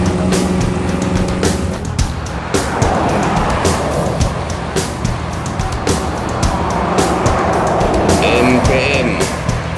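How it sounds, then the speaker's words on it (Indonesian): A Muaro Jaya intercity bus on the Bukittinggi–Sijunjung route passes close by, a loud, steady engine and road roar with a broadband swell through the middle, amid other traffic noise. "Kalau yang ini bus AKDP bosku, antar kota dalam provinsi, bus Muaro Jaya"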